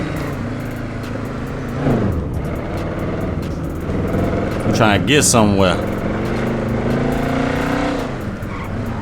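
Car engine revving and accelerating while driving in GTA 5, loud and close, with a tire squeal midway, under someone talking.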